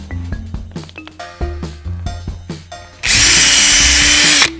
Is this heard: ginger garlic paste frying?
no